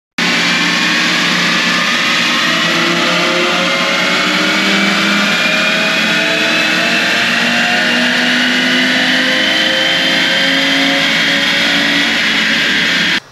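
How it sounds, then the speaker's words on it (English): A five-cylinder car engine running on a dyno with Shell 91 octane fuel, giving a loud, steady drone that holds its pitch and slowly rises, with no talk over it. "So we just ran the car with Shell 91 octane fuel"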